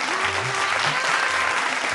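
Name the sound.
loud applause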